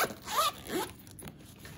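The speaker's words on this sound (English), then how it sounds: "And it just zips closed," A zipper on a cash envelope wallet is pulled closed up close, one quick, loud zipping stroke followed by a softer trailing bit.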